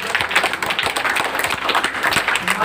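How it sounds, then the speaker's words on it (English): Applause from a room of schoolchildren at a school quiz contest in Adilabad, rapid overlapping claps filling the space steadily and fairly loudly, with no talk over it. "Clap for the girl."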